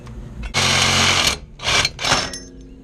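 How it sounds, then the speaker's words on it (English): A power saw cuts another two inches off a metal part near a flange outdoors in hot weather, with one long loud burst of grinding followed by two shorter cuts after brief pauses. "we're cutting another 2 inches off"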